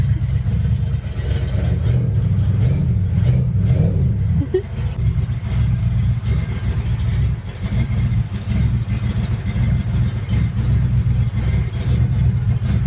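A Jeep Grand Wagoneer engine runs steadily and loud throughout, with a rising rev early on before settling into a constant drone with slight throttle swells.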